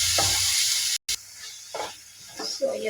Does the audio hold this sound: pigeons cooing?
no